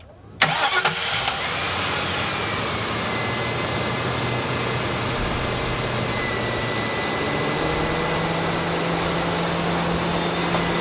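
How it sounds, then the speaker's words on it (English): A V8 car engine cranks briefly on a portable jump starter, catches quickly and settles into a steady, close idle that runs on without talk. "whenever I start the vehicle, you should hear it be a really strong turnover"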